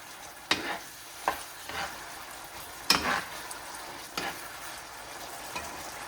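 Scotch bonnet hot pepper frying in a pan for Jamaican peppered steak, a soft steady sizzle broken by several sharp scraping stirs of a utensil against the pan.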